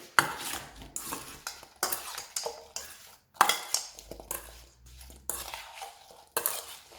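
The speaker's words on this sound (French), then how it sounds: "Et on va venir mettre les 3 cuillères à café de sucre qu'on va venir saupoudrer par-dessus. Voilà. On va mélanger." Apple pieces dusted with sugar being stirred in a bowl with a spoon, a series of close scraping and clinking strokes in uneven bursts separated by short pauses, with no voices.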